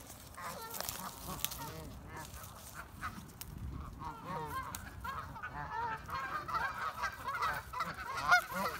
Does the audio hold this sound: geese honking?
yes